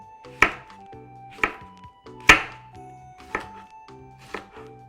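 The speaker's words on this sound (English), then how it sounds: "we're going to go in and slice our cucumber into julienne pieces. So we'll just make some wide cuts going down like this first." Knife making wide cuts through a cucumber on a cutting board: five sharp chops spaced about a second apart, close and clear, with no talking.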